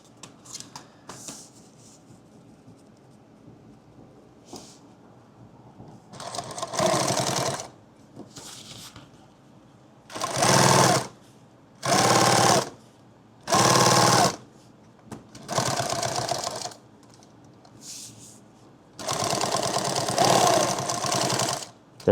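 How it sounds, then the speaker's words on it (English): A sewing machine stitching a seam on a laptop bag, five or six short buzzing runs of varying length broken by quiet pauses, close up and alone. "catch that when you sew the bag closed in the seam and everything."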